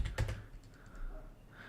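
Quiet typing on a computer keyboard, a quick burst of key clicks at the start followed by softer scattered taps, with no talking.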